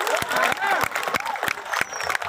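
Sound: audience applause at Balinese Calonarang performance

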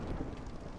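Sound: storm thunder and rain in video game Against the Storm

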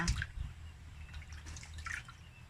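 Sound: water while washing a fish before cooking

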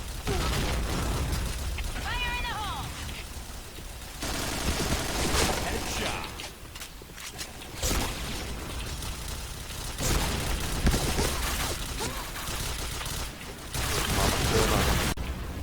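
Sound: rapid explosions and gunfire in a video game

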